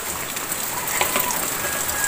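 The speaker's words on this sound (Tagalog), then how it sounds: "ni ulan na sad." Rain falling in a continuous soft hiss of many fine drops, even and moderately loud, with no talk.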